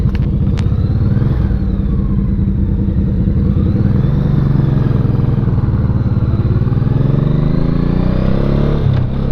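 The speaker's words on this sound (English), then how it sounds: "I love the way this bike sounds. The V-twin sound so good." A Honda Shadow V-twin motorcycle is ridden at speed, its loud, throbbing engine note constant and close with changing revs, a sharp clack near the start, and no speech.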